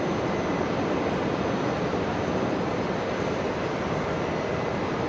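Qantas Boeing 737 jet airliner at Brisbane Airport taking off, heard as a steady, broad roar of jet engine thrust that holds level and fairly distant throughout, with no voices.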